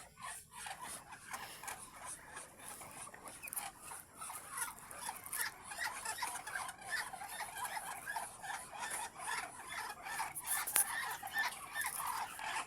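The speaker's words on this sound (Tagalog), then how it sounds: "Ang ingay ng mga pato guys." A flock of ducks quacks and calls continuously at moderate distance, a busy, noisy mix of overlapping cries with no talking.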